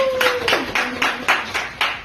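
A small group of people claps together at an event, a few seconds of loose, overlapping clapping with rhythmic bursts, close by and moderately loud.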